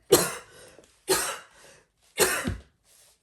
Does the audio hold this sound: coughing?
yes